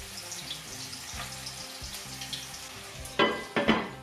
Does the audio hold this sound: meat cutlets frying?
yes